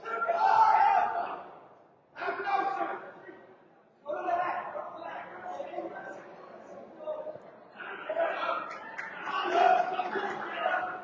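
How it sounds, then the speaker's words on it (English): Spectators and parents in a gym shout and call out during a high school wrestling meet, with a loud burst of crowd noise, brief lulls, then renewed overlapping yelling and chatter. "You can hear the fans as well as the parents shouting out instructions to the wrestlers out on the mat."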